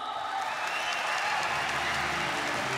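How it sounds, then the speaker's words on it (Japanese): Audience applause after a K-1 kickboxing bout, dense steady clapping filling the arena throughout with faint voices mixed in. "皆様今一度盛大な拍手をお送りください。"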